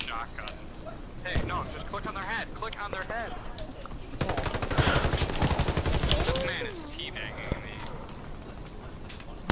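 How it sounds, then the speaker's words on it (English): Bursts of automatic gunfire in a video game firefight, with a long rapid volley in the middle and scattered shots before and after, heard under a player's excited talk. "they're trying to shoot me"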